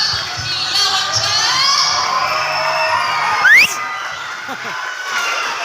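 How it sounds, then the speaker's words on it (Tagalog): A pageant audience cheers and whoops loudly, with shouts and yells in a steady roar of crowd noise throughout. "palakpakan at masigabong hiyawan ka!"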